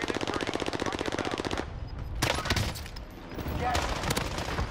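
Rapid automatic fire from an OTS 9 submachine gun in a video game, a dense burst of loud shots for over a second, then more scattered gunfire and game sounds, with a voice faintly underneath.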